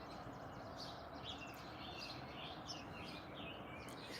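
Birdsong outdoors in the morning, thin chirps and twittering high above a steady broadband wash of ambient noise, fairly faint and continuous with no clear talk.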